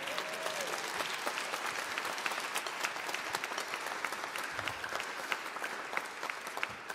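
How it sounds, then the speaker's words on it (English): A full audience claps steadily for a youth brass band in a cathedral, dense and even applause filling the whole stretch without pause. "can we give the Youth Brass one more round of applause"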